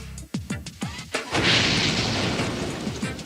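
A series of rapid booming blasts leads into one big gas explosion that roars on as a long, rumbling wash of noise.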